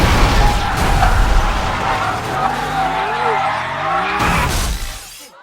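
A race car in a film skids out of control, loud tire squeal and engine noise with a crunching, shattering edge, fading out abruptly at the end.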